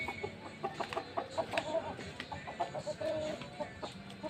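Farm chickens cluck in a close, busy flock around feeding time, with repeated short clucks and squawks overlapping irregularly at a moderate, fairly quiet level.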